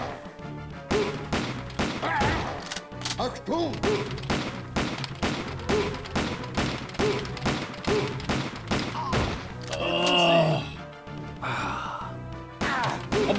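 Pistol fire in Wolfenstein 3D on the Macintosh, a steady run of loud, evenly spaced shots with a brief burst of other game noise partway through and a voice murmuring underneath.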